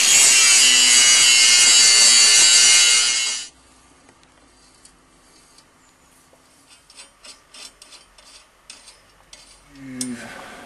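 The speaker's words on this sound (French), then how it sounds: "Je l'attaque au grain 60, qui est un grain vraiment très gros." A sword blade is worked with coarse 60-grit abrasive: a harsh, loud, continuous scraping rasp fills the first few seconds, then gives way to quieter, scattered rubbing strokes and light handling noises.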